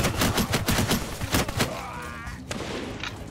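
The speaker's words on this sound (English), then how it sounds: "just blasting into these throngs of people, slaughtering them with our AK-47" Rapid AK-47 fire in the modded medieval battle game Mount and Blade: a quick string of loud, close, evenly spaced automatic shots that stops abruptly, followed by softer battle noise and a final lone crack.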